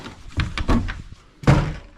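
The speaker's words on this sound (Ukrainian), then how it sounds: "Трошки двері закинув" A door in a damaged village house swings shut, giving a couple of dull wooden thunks and knocks followed by a heavier closing thump, close and fairly loud with no talking.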